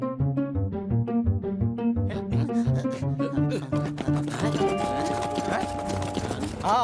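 Cartoon hoofbeats of a herd of goats running, a fast steady clip-clop patter under lively background music, with a brief whinny-like cry near the end.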